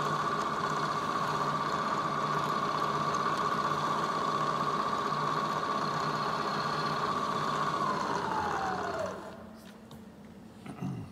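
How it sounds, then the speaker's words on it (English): A milling machine runs a countersink into aluminum, a steady close mechanical whine with a sustained tone that drops in pitch and winds down near the end, followed by a few light clicks. "So I can go ahead and countersink this"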